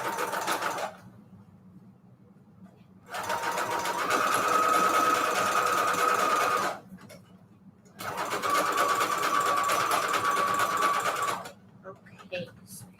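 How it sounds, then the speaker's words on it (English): A sewing machine runs in two long bursts, zigzag stitching lace onto envelope pages for a junk journal, its steady whirring motor loud and close, pausing between runs with quiet handling noise. "for the lace, I'm using a little bit of a zigzag stitch"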